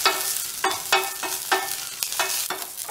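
Okra stir-fries in a pan of coconut oil with mustard seeds, two dried red chillies, asafoetida and curry leaves: a constant sizzle broken by regular scraping strokes of a spoon, about two per second, close and clear.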